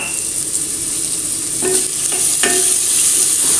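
Cauliflower sautés in coconut oil with salt, a loud, close, continuous sizzle broken by a couple of scraping stirs in the pan, with no voices.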